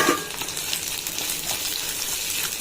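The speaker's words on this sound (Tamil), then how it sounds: "போட்டு நல்லா வதக்கி விட்ருவோம்" Steady sizzling of garlic and ginger sautéing in hot oil in a pan, with occasional soft stirring crackles, close and continuous.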